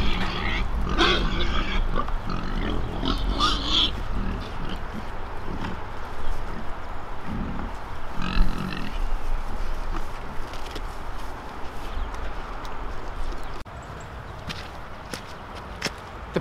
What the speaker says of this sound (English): The pigs love to eat.